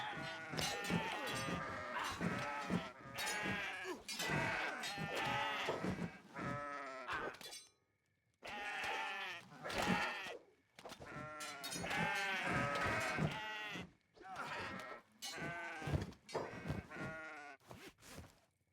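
Goats in the video game Kenshi bleat again and again in loud, wavering calls that come in clusters, with one short gap of near silence partway through.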